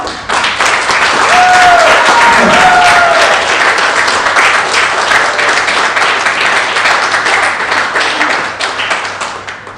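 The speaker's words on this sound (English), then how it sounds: "Now let's get ready with a applause from you." Audience applause at a para shooting world championship for men's 10m air pistol, a loud, dense wash of clapping that swells early and continues steadily, tapering slightly near the end.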